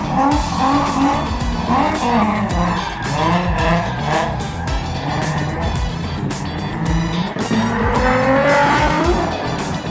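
A lifted Mazda Miata on a stock wheel performs a burnout in a burnout pit, its engine revving hard and tires squealing loudly and continuously, with the pitch rising and falling over the whole stretch.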